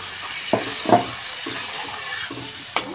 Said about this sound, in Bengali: আমি এবার জল দিয়ে দিচ্ছি।